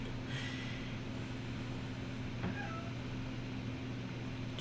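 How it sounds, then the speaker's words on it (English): A cat meows faintly a couple of times over a steady low background hum, distant and soft. "Oh, see the cats, Laura."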